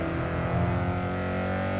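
A loud, steady video game car engine, a GTI in Need for Speed Underground 2, roars at high revs, a smooth continuous drone with rich harmonics and no talking.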